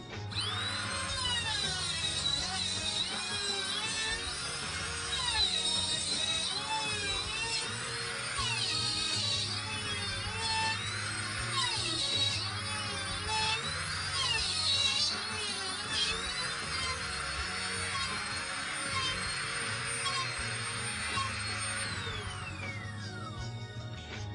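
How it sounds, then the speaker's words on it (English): A wood router with its bit spinning at top speed cuts dovetail pins in a workpiece, giving a loud, steady high-pitched whine with shifting tones that keeps going, close up and without speech, before winding down at the end. "Take our router, so it's plugged in place. We want the bit moving at top speed when it enters the workpiece, and we begin."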